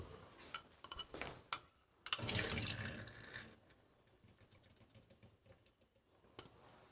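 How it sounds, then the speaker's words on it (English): Canned tomatoes being drained at a kitchen sink, with splashing and a pouring rush of liquid, metallic can and utensil clatter, then a softer trickle fading down. "First, I'm going to drain the tomatoes."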